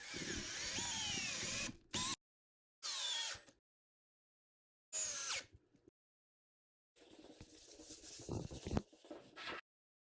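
A drill buzzes in several short bursts separated by silence, each rising briefly as a screw drives into a wooden stocking post, followed by a longer, rattling run.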